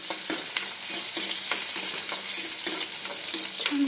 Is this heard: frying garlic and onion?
yes